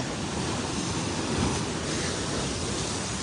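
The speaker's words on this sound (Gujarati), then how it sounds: "આપ દરિયાનો નજારો જોઈ શકો છો દ્વારકાના ગુમતી ઘાટ પર જે રીતના પાણી વહેતા મોજા અને દરિયો જે રીતનો તોફાની છે" Stormy sea waves at Gomti Ghat in Dwarka, swollen by monsoon rainwater, crash and churn as a dense, continuous roar of surf that fills the scene with no pauses and no voices.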